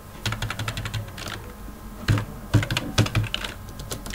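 A computer keyboard clatters as a diskpart command is typed into a command prompt, in uneven bursts of quick, close keystrokes separated by short pauses, with a few sharper key hits near the end.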